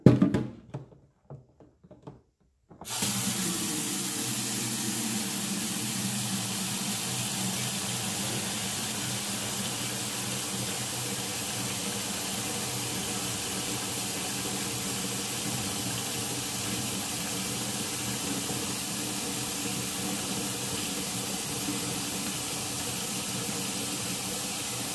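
Water pours steadily into a basin of thick homemade liquid soap, a continuous close splashing and hissing flow that starts after a few seconds of quiet handling and runs unbroken to the end.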